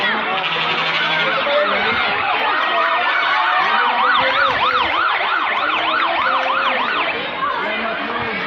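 A loud wailing fire truck siren sweeps up and down repeatedly, close and dominant, with traffic noise and faint voices underneath, in Barangay Bucana, Davao City.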